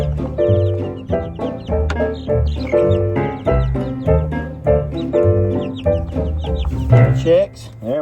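Chickens clucking and chattering close by as they are let out of their coop, a busy overlapping stream of calls running throughout.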